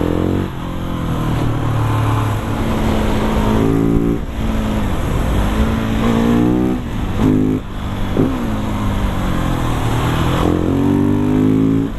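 Husqvarna 701 supermoto motorcycle ridden through corners, a loud close single-cylinder engine droning and revving with repeated shifts and throttle changes, wind noise throughout.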